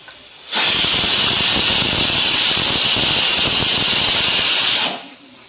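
Hot mustard oil hits cooked white aloo posto in a pan and erupts into a loud, steady sizzle, a broad hiss that starts abruptly, holds for about four seconds, then cuts off.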